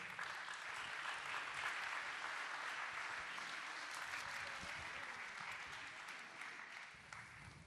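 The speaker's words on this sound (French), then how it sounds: "un grand tonnerre d'applaudissements et merci pour le travail" A hall audience at a town's 2017 New Year's greetings ceremony in Boissise-le-Roi claps in a sustained round of applause. The clapping is steady and fairly faint, rising briefly and then tapering off toward the end.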